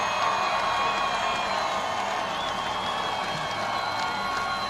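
Large crowd at a Trump campaign rally in Jacksonville, a steady, dense roar of cheering and applause sustained throughout, loud and continuous with no clear breaks.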